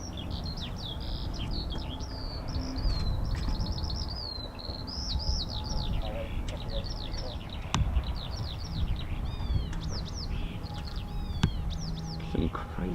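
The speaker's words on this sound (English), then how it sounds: "Some crazy noises coming from those birds." Birds at an air force airfield repeatedly chirping and trilling in quick, varied bursts, fairly close, over a low background rumble with voices speaking at times.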